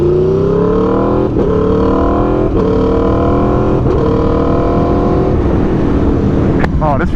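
A 2022 Aprilia RSV4 1100 Factory motorcycle is ridden hard, its engine loud and close, climbing through several gears with upshift dips in pitch and a sharp blip near the end.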